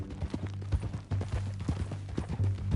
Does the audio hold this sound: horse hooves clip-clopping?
yes